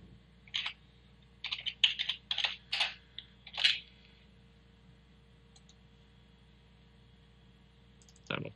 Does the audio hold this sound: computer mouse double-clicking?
yes